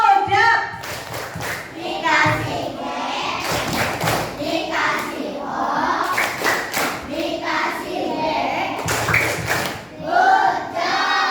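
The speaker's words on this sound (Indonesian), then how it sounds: "Tepuk tangan dong" Schoolchildren in a classroom clap together in several bursts of rhythmic, synchronized claps, mixed with children's voices and an adult speaking between and over the clapping.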